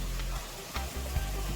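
Callaloo and carrots with blended seasonings sizzle in a pan for a Jamaican vegan breakfast, a short steady crackling fry with a couple of soft stirring knocks, close and alone.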